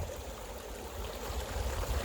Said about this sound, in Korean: 아주 뭐 맑은 개울물이 이렇게 흐르고 있습니다